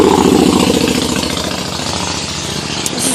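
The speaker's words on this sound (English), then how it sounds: "Here's a motorcycle." A motorcycle engine runs close by with a rapid, steady mechanical chugging pulse, loud and alone without talk.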